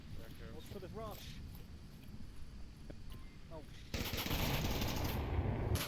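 Gunfire in the Onward VR shooter game, bursts of rapid automatic shots heard faintly in the distance with brief chirps, then a louder sustained rush of noise near the end.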